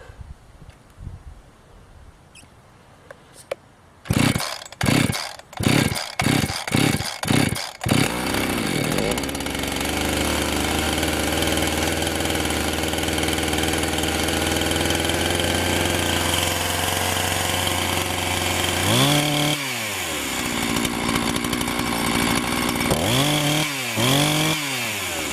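A Husqvarna chainsaw is pulled over several times in quick rhythmic tugs, then roars to life and runs loudly and steadily. Near the end the engine swoops up and down in repeated revs.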